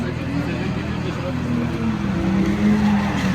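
Drift cars arrive on track at Vaison, a steady engine rumble with rising, wavering tones that swells toward the end, partly under people talking.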